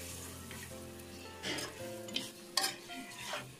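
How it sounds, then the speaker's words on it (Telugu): Mutton pieces sizzling in a hot pan with onion, turmeric and ginger-garlic paste as a spoon stirs them, steady frying hiss broken by scraping stir strokes and a couple of sharper clinks. "మటన్ ముక్కలను వేసుకుందాం. ఇలా వేసిన ముక్కలు మటన్ ముక్కలు వేసా కలుపుకోవాలి."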